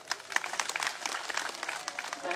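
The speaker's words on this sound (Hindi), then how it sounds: "जोरदार तालियों सतपाल" Audience applause at an outdoor campaign gathering for a BJP candidate, a steady patter of many hands clapping at moderate distance, fairly soft throughout the short stretch.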